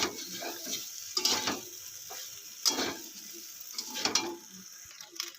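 Boiled pasta being stirred through a pan of Bengali-style sauce, with a soft sizzle underneath and repeated scraping sweeps of the spoon about every second and a half.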